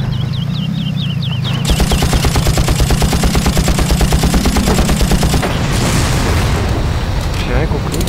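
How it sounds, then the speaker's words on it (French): Far Cry gameplay with a grenade and heavy gunfire: a long stretch of rapid, loud automatic bursts, then a booming explosion with a noisy tail, while a voice talks underneath. "Tenez une grenade, surprise"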